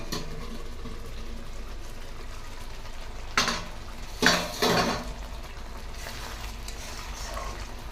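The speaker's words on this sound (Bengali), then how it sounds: "আলুটা কতটা সিদ্ধ হলো আর তরকারির কেমন অবস্থা সেটা দেখার জন্য আমি একবার ঢাকনাটা খুলে নেবো" A metal lid is lifted off a pot of simmering potato curry, giving a few sharp clanks and rattles over a quiet, steady bubbling hiss.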